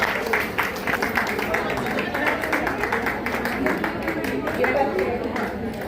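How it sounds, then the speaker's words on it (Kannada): Loud, sustained applause from a crowd at a women's association 25th anniversary prize-giving, dense clapping filling the whole stretch with some murmured voices mixed in. "ಚಂದ್ರಪ್ರಭಾ ಅವರಿಗೆ ಎರಡನೇ ಬಹುಮಾನ ಜೋರಾದ ಚಪ್ಪಾಳೆ"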